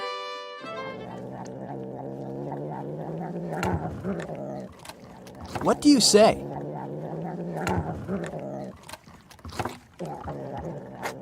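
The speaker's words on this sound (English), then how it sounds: "it's the sound of a purring cat." A cat purrs in a close, steady rumble with throaty pulsing that swells and fades, and a voice briefly asks a question partway through.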